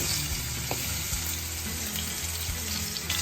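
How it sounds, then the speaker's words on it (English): A salted and peppered ribeye steak sears in a pan on a stovetop, giving a loud, dense, continuous sizzle with a low rumble underneath, close and steady with no talking. "Now I'm just going to sear it a little bit on each side"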